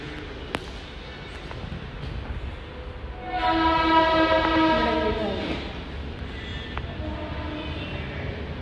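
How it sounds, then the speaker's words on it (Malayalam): A train passes close to a house, its rumble building and holding steady while a loud, sustained horn sounds through the middle, then the noise eases off as it moves away. "ഇപ്പം ട്രെയിൻ പോണ സൗണ്ട് കേൾക്കുന്നുണ്ടല്ലോ നിങ്ങൾ."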